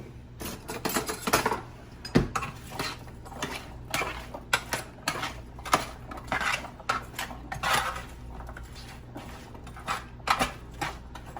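Potatoes tossed with oil in a pan clatter under a spoon in quick irregular scrapes and knocks, close and fairly loud, sometimes in short rapid bursts.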